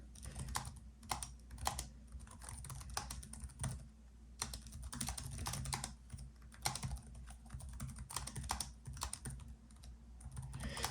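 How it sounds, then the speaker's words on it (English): Fingers type on the low-profile keyboard of a Razer Blade 14 laptop. Quiet, rapid key clicks patter in irregular bursts over a soft room hum, with no talking. "It is a really nice low profile keyboard."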